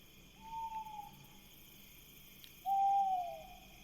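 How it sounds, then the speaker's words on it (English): An owl hoots at night, two drawn-out hoots a couple of seconds apart, the second louder and nearer, over quiet ambient hiss with no talking. "Is that owl that loud all night?"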